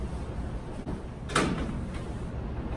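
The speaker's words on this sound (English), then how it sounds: "And we're going to gently lift the door." Microwave oven door lifted off during a magnetron installation, a single faint close clack of plastic and metal in a quiet room.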